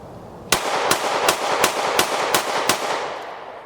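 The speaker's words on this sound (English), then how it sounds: "we're not finished shooting because I'm really enjoying these new Glocks" Seven evenly spaced shots from a Glock G45 Gen 6 pistol ring out loud and close in quick, steady succession, each with a brief echoing tail.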